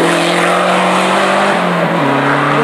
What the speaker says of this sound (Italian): Senti che turbo, senti che turbo.